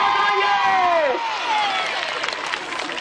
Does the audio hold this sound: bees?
no